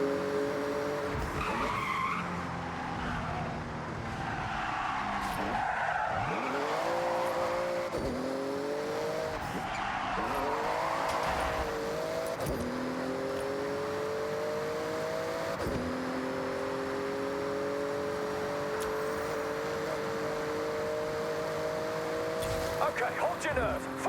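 Porsche in Forza Horizon 6 racing through a speed zone, its engine revving hard with repeated rising gear pulls and tire skids, loud and close, with a voice speaking over parts of it.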